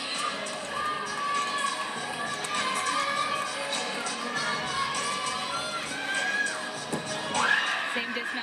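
Crowd at a California vs Stanford women's gymnastics meet cheering and shouting, with high-pitched screams and whoops rising over a steady roar, and a commentator's voice faintly beneath.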